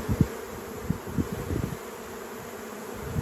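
Honey bees buzz around an open hive during queen rearing, a soft, steady drone with a few louder passes close by, no talk.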